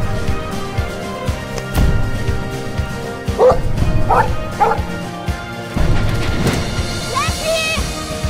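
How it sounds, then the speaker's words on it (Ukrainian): A dog barks and yips in a dramatic film trailer, several short close barks and a whimper woven among music hits, crashes and speaking voices. "Це чула? Це гавкіт."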